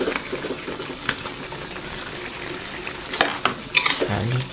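Sliced eggplant sizzles in a frying pan while a utensil stirs it, with scraping clatters rising over steady frying. No one speaks.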